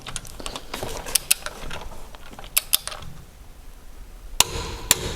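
Bolts being fitted and tightened on a brake caliper of a Mitsubishi L200 pickup, heard as a series of close metallic clicks, taps and ratcheting knocks spread across the clip, no talking.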